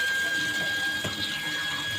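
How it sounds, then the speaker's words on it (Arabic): Water runs steadily from a tap over raw chicken being washed, a continuous hissing splash close by with a faint high tone running through it. "هفتح بقى عليها الميه كده"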